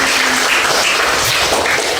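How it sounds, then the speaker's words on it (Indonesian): Students in a school classroom break into applause, a thick, even wash of many hands clapping close by and fairly loud for about two seconds. "Mana tepuk tangannya buat Ibu saya?"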